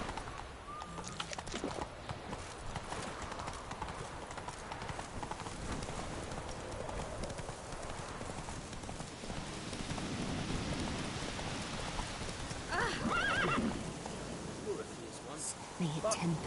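Roach the horse gallops in The Witcher 3, a soft continuous clip-clop of hooves mixed with rain-like patter and ambient game sound, fairly faint, with voices speaking over it.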